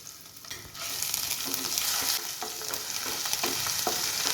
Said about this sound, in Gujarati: હવે આપણે તેની અંદર એક ચમચી આદુ લસણ મરચાંની પેસ્ટ ઉમેરીશું